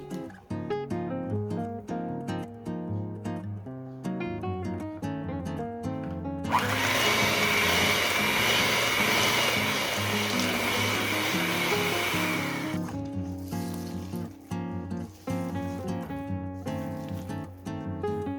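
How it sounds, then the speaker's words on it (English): An electric mixer blends ricotta cheese, egg and vanilla extract for cannoli cookies, a steady loud whirring drone lasting about six seconds in the middle, with background music playing before and after. "Then mix in the ricotta cheese, egg, and vanilla extract until well combined."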